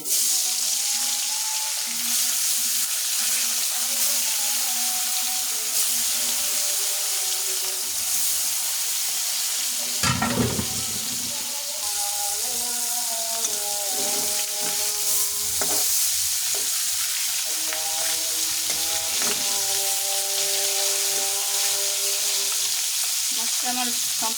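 Sarputi fish frying in hot oil, a loud, steady, close sizzle that flares sharply midway as the pan is disturbed, with faint tonal clatter and no talking.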